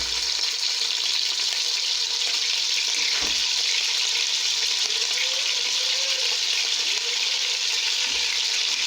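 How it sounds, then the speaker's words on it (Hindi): Pasanday meat pieces frying in oil in a pan: a steady, bright sizzle with bubbling crackle throughout, close and fairly loud. "तमाम पसंदे हम इसमें डालकर इन्हें फ्राई करेंगे।"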